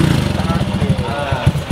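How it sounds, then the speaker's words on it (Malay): A motorcycle engine idles with a low, rapid chugging putter, close and fairly loud, the pulses wavering unevenly as if just started. "Cuba akak start motor ni."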